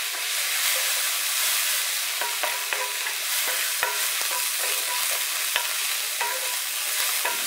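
Onions frying in butter and oil for veal burgers, a loud continuous hissing sizzle close up, with occasional scrapes and taps of a utensil stirring the pan.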